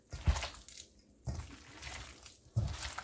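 Water splashing and being mixed into a vegetable fritter dough in short wet bursts, three separate sloshing pours and stirs close by, no talking.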